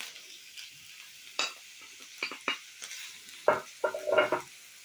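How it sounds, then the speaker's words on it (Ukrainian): Onion sliced in quarter rings sizzles in hot oil over low heat, with a few clattering stirs and scrapes against the pan in short bursts. "Цибульку я нарізала четвертинку кільцями і відправляю в сковорідку."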